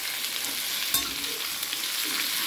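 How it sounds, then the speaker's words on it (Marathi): Raw green mango pieces sautéing with red chili powder in a hot pan, a steady close sizzle with soft stirring scrapes and one brief clatter, no voices. "आंब्याच्या फोडी घालून छान परतून घ्यायचं।"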